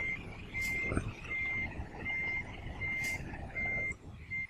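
A truck reversing in Euro Truck Simulator 2, its steady electronic backup beeper sounding in regular pulses over a low engine rumble, loud and close.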